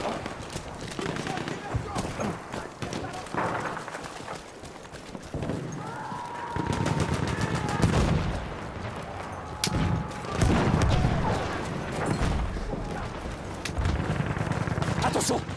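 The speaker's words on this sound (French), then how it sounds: "Présence d'une mitrailleuse." Machine gun fire in the World War I shooter game Verdun: rapid bursts of gunfire crackle through a noisy battlefield mix, with voices calling out over the shooting.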